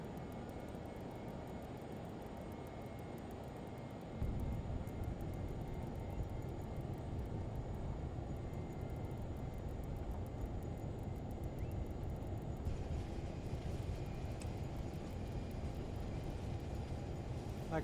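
Twin jet engines of a Learjet 35 in a flight simulator wind down on the runway after landing: a steady, broad, distant-sounding roar that swells slightly partway through and continues without a break.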